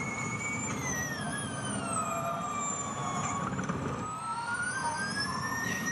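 A Formula E electric race car on track during free practice at the 2022 Jakarta E-Prix gives a continuous, high-pitched electric whine that slides up and down in pitch as it brakes and accelerates, loud and alone.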